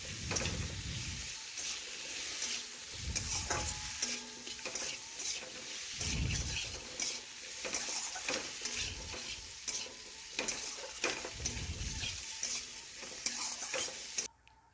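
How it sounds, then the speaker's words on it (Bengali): Vegetables frying in a pan with turmeric, coriander, chili powder and salt, stirred with a spatula that scrapes in regular strokes over a steady sizzle, loud and close, with no talking. "ভালোভাবে এখন সবজির সাথে মিশিয়ে একটু কষে নিচ্ছি।"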